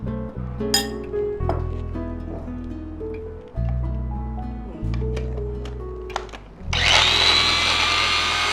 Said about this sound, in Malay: Jadi kita akan kisar ni.